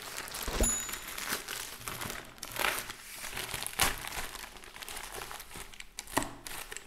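Paper and plastic wrapping from a postal service package holding a Keychron K2 mechanical keyboard crinkles and crumples close by in irregular bursts, with a few sharper tearing rustles and no talk.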